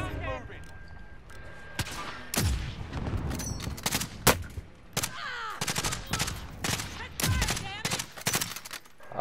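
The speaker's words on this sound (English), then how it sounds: "I think I'm getting shot at from above somewhere." Video game gunfire in a multiplayer shooter, repeated sharp shots and bursts at irregular intervals, some loud and close, others distant, with a player talking between them.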